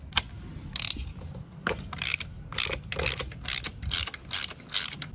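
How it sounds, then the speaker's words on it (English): A ratchet wrench loosening a spark plug from the number two cylinder of a Chevy Cobalt with a fuel-fouled misfire, a quick run of sharp, close clicking bursts in an uneven rhythm, with no talking. "So I'm gonna go ahead and pull the spark plug out of the number two cylinder."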